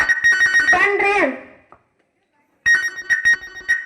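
A phone rings with a repeating electronic ringtone in two bursts separated by a short silence, loud and close, with a voice speaking over the first burst.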